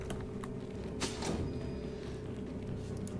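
A wooden door creaks open inside the fantasy role-playing game Divinity: Original Sin, a drawn-out groan near the one-second mark rising over a steady bed of game ambience.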